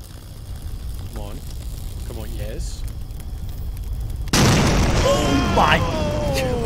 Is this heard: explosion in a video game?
yes